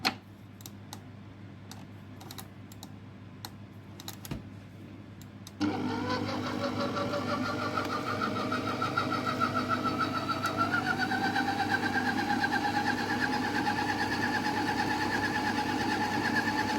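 A stand mixer kneads soft ghorayeba cookie dough: a few light clicks and taps, then the motor suddenly whirs up and runs on steadily, loud and close, with a droning hum that slowly rises in pitch.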